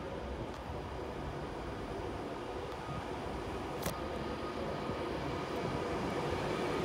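An Avanti West Coast Pendolino train rumbles past at Carlisle, a steady, broad roar holding at even loudness throughout with no voices heard.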